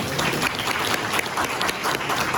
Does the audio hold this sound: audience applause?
yes